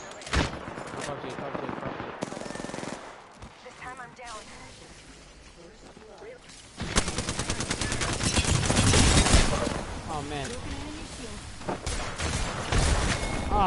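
Enemy gunfire in a video game cracks in bursts and sustained rattling, louder in the second half, while a player talks over it.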